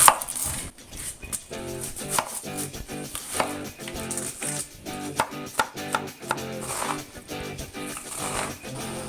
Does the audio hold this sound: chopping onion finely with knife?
yes